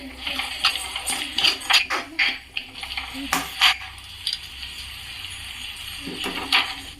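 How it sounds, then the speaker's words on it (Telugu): Food is stirred in a frying pan after coriander goes in: close, rhythmic scraping and clinking of a spoon against the pan over a soft sizzle, with brief pauses between strokes. "బాగా మిక్స్ చేసుకోవాలి"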